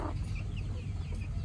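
A hen with chicks and ducklings dust-bathing in a sand pile gives off soft, low clucks and faint chirps, quiet and close, steady over a low background rumble with no talking.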